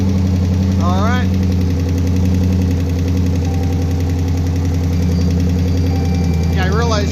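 A swapped Gen III engine runs in gear with a steady, loud, close rumble and a knocking undertone, while people talk over it.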